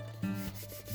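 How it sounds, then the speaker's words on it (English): A flat hand rubs paper pressed onto a gel printing plate, giving a short, soft rubbing swish with faint rhythmic friction, close and quiet, with no voice. "using the flat my hand, I'm just going to rub"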